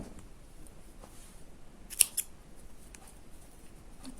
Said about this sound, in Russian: Эту петельку закрепляю и обрезаю.